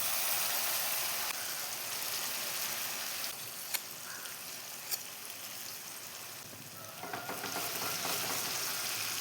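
Ground dates fry in ghee over low heat, giving a soft, even sizzling hiss with occasional light clicks and stirring scrapes, fairly faint and with no talk.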